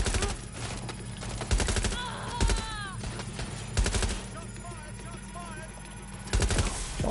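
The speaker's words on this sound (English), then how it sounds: "Shots fired?" Gunfire in Watch Dogs Legion, several separate bursts of rapid shots spaced through the clip over a low background hum, with brief electronic chirps between volleys.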